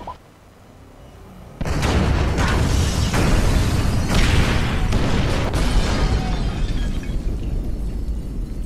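A sudden loud firebomb explosion in Grand Theft Auto 5 bursts in after a quiet start, followed by a sustained roaring rumble that lingers at high volume for several seconds.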